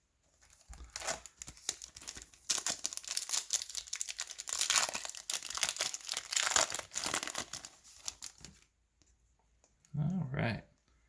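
Close crinkling and tearing of a foil pack of 2020 Topps Pro Debut baseball cards being opened, a busy run of rustling and crackling for several seconds, then a brief voice.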